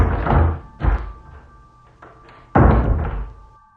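Thuds and knocks of a house's front door as someone opens it and comes inside, several loud close bumps with a short quiet gap between them.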